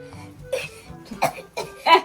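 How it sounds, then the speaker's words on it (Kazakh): A child coughs several times in short, separate bursts, close and moderately loud, with brief pauses between them. "Бұл жөтеле берме."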